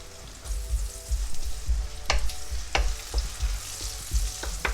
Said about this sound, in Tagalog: Add our beef cubes